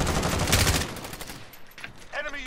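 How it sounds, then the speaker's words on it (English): Bursts of video game gunfire in a chaotic squad firefight, a rapid volley of shots at the start that fades into scattered noise, with a few quieter pops toward the end. "I was shooting at the blokes that they were shooting at as well"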